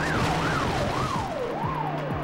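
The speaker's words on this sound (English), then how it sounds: "Get out the way, stupid police car." A wailing police car siren from the driving video game The Getaway sweeps up and down steadily and loudly, with game engine noise rumbling underneath.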